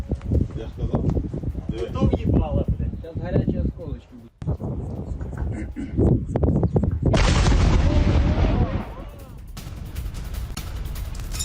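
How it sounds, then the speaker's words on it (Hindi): Explosions from a drone attack on a chemical plant in Moscow come as a rapid series of heavy booms and blasts, loud and reverberant, mixed with other noise and crackling. "एक के बाद एक 10 धमाकों की आवाज।"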